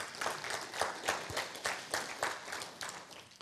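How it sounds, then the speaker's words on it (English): A church congregation claps together, a fairly loud, dense wash of hand claps pulsing in uneven bursts that thins toward the end. "Let's give the Lord a clap on that"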